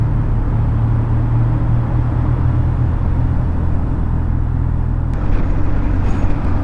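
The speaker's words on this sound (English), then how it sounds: "there's a fair bit of traffic, made worse by the fact it's only one lane." Heavy road traffic on the single-lane approach to the Dartford Tunnel under the River Thames, heard from inside a car as a loud, steady engine and road rumble with a faint click near the end.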